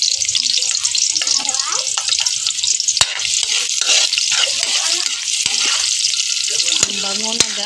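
Garlic sizzles and fries steadily in a pan, a dense close hiss with occasional stirring clinks and scrapes, continuing alone without talk.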